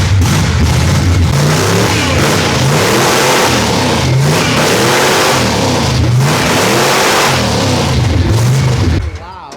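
A supercharged truck engine, worn enough to blow the dipstick out, revs hard toward 7,000 RPM. It produces a loud, sustained roar with surging rises in pitch before cutting off near the end, with voices heard over it.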